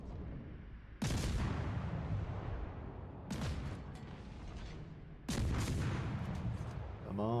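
Naval guns on the destroyer Smith fire in a video game: three heavy booming salvos, each with a sharp onset and a long rumbling decay, spaced a couple of seconds apart, loud and close.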